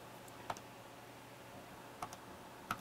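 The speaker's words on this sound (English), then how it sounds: "as I'm pressing the button here on the Stream Deck" Buttons pressed on a Stream Deck controller, three faint, separate clicks spaced roughly a second or more apart against quiet room tone.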